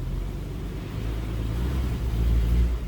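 A 1950 Chrysler Windsor sedan's engine, in reverse with the clutch out, gets a light touch of gas, a close low rumbling idle that swells slightly louder toward the end.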